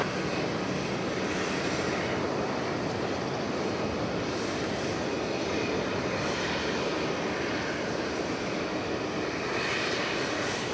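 American Airlines flight 836 to Los Angeles readies for departure at Dallas Fort Worth airport, its jet engines giving a steady, loud broadband roar that holds without a break.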